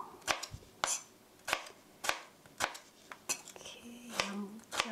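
A knife slices tomatoes into 0.5 cm thick pieces on a cutting board, giving about ten sharp, evenly spaced cuts that knock on the board, each loud and close, with no voices.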